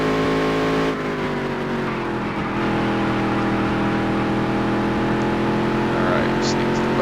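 A modified race car engine from NASCAR Dirt to Daytona drones loudly and steadily at high revs during a dirt race, its pitch shifting slightly as someone talks over it.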